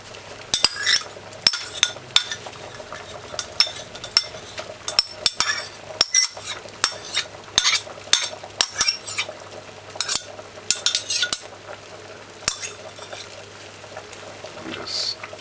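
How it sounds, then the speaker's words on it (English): A metal spoon clinks and scrapes against a pot as ketchup is stirred gently into a simmering Jamaican chicken foot stew peas, with sharp taps in an irregular rhythm over a quiet bubbling background. "And just stir it in gently."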